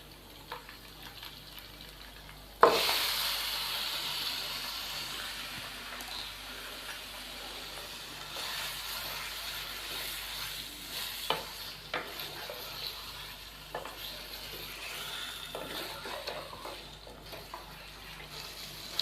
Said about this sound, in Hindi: हम इसकी 5 से 6 मिनट तक अच्छे तरीके से भुनाई कर लेते हैं